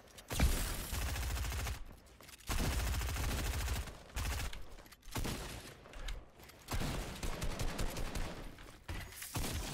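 Rapid video game gunfire in an arena fight, sustained bursts of many shots in three or four long runs separated by short pauses, loud and close with no talking.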